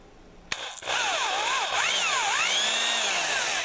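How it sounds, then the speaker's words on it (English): A power drill with a 6/16-inch bit whirs steadily after a sharp start, its pitch dipping and rising as the bit bites into material, loud and close. "I switched out to a 6/16 diameter drill bit. I'm just going to go down just a little bit."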